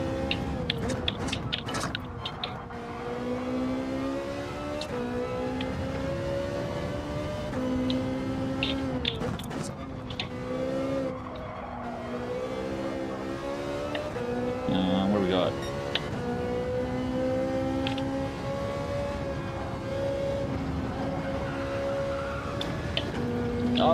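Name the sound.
race car engine and tire skids in video game Gran Turismo 7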